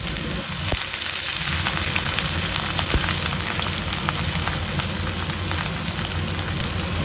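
Cauliflower and potato fry in hot oil in a honeycomb wok, a steady dense sizzle that holds loud and even throughout with a few faint clicks and scrapes.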